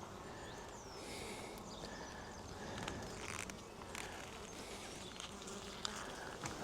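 Honeybees buzzing around an open beehive during an inspection, a faint continuous hum with occasional individual bees passing close by.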